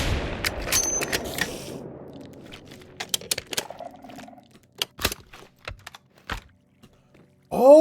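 A .50 cal gun fires in modded Minecraft as a series of sharp, isolated reports spaced irregularly over several seconds, each a loud crack over quiet background, with a brief burst of rapid clicks early on.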